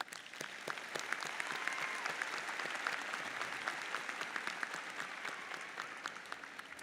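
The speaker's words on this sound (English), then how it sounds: "Please join me in giving all of them a round of applause." A university commencement audience applauds in a large hall, a steady, even wash of many hands clapping, fairly distant and sustained throughout.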